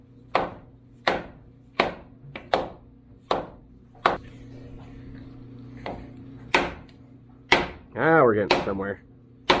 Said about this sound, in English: Now, got to pound these guys in like so.